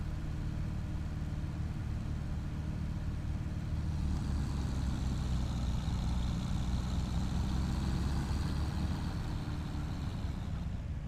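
The engine of an older Fendt tractor in Farming Simulator 25 runs with a steady, loud, low diesel drone that continues unbroken throughout, its tone rising slightly partway through, with no talking.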